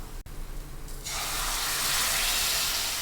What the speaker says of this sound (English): So this masala is ready, and in goes the prawns now.